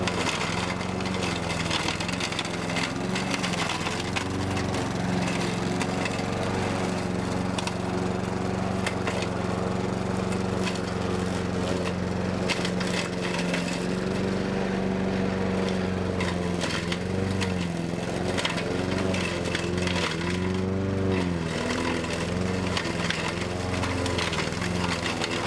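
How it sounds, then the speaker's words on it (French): A lawn mower runs continuously and loudly, shredding garden debris over a growing bed, its engine drone wavering as the load shifts, with crunching bits of material throughout. "à passer plusieurs fois la tondeuse"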